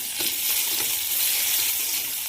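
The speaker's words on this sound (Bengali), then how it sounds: "কলমি শাক ভাজা কড়াই বসিয়ে দিয়েছি।" Water spinach fries in a wok with nigella seeds and crushed garlic, giving a steady, bright close-up sizzle with faint stirring scrapes and no voices.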